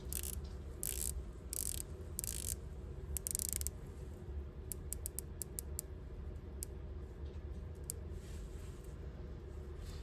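A Breitling Chronomat GMT watch bezel being rotated gives a run of small, crisp ratcheting clicks, close and quiet against a low background hum, after a few louder scraping handling sounds.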